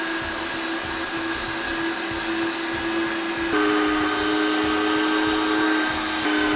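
A Cuisinart meat grinder grinding cubed ground chuck makes a loud, steady motor hum and whine that shifts pitch partway through as the load changes.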